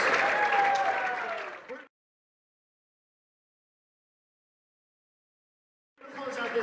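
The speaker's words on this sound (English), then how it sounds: "How about one more big round of applause this set for Miss Olivia Van Goor on the vocals." Audience applause for a jazz band vocalist during a school jazz band reading session, a short burst of clapping that fades out, then silence before clapping briefly resumes.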